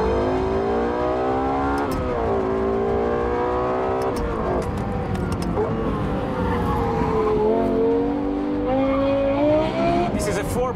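A Lexus LFA's 4.8-liter V10 revs hard and continuously, its pitch climbing and falling through repeated throttle sweeps, loud and close, with a brief tire squeal.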